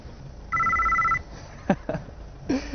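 A Sonim XP1 rugged phone rings once with a steady two-tone electronic trill, fairly close and clear, followed by a few faint clicks and handling noises.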